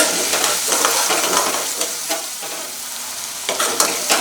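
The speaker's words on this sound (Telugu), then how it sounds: "ఇప్పుడు అల్లంలో ఉన్న పచ్చివాసన వెల్లుల్లి కూడా మనకి బాగా దోరగా వేగాలన్నమాట" Ginger and garlic frying in oil for a fish pickle, a constant loud sizzle with occasional stirring scrapes and clicks from the pan.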